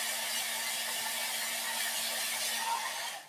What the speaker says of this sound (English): because the hairdryer was really loud.